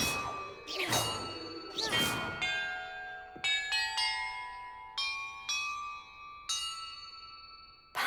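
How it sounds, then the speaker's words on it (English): Bells rung one after another in the video game Hogwarts Legacy, a series of clear metallic dings and clangs, each struck tone ringing out and decaying before the next, about a dozen strikes in a loose sequence. "Perhaps the map contains clues about the order I'm supposed to ring the bells in."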